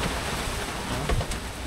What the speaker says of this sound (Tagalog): Sobrang lakas ng ulan, sobrang lakas ng hangin.